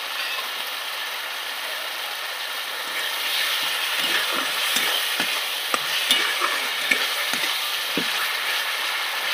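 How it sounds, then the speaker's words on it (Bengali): Spices with chilli powder and turmeric sizzle steadily in a hot pan while being stirred, a constant frying hiss with soft scraping taps from the spatula, close up and without talk. "মশলাটা ভালো করে কষিয়ে নেব।"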